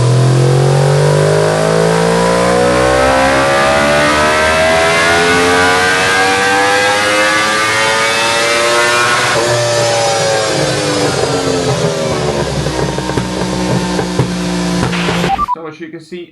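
A Yamaha R1 fitted with MWR velocity stacks, a DNA filter and a custom tune roars loud and close on a dyno, its engine pitch climbing steadily through a long run before cutting off abruptly near the end.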